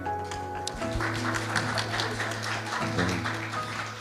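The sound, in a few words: audience applause for a panel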